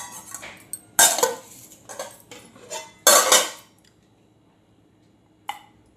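Metal dishes and utensils clink sharply in a few bright bursts as jeera rice is served onto a thali plate, with quiet pauses between the clatters.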